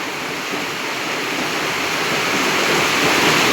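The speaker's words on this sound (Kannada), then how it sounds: "ತುಂಬ ಜೋರ ಮಳೆ ಬರ್ತಾಯಿದೆ ವೀಕ್ಷಕರೇ. ನೋಡಿ ನೀರು ನೋಡಿ ಹೆಂಗೆ ಹರಿತಾ ಇದೆ" Heavy rain pours down on a city road while floodwater rushes along the street, a dense, loud, continuous roar close by that swells slightly toward the end, with no one talking.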